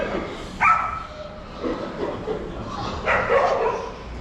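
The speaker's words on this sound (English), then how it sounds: "Fucking dog." A dog in a rural yard with machinery gives a few yips and barks with whimpering, moderately distant and not very loud, against a steady background rumble.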